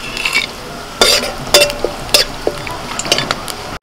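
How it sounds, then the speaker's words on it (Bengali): Bay leaf, cardamom, cinnamon, cloves, nutmeg and mace sizzling in hot oil, with loud crackling bursts and metallic clinks of a utensil against the pan, close and uneven. "তেজপাতা, এলাচ, দারচিনি, লবঙ্গ, জায়ফল আর জয়িত্রী একসাথে ফোড়ন দিচ্ছি।"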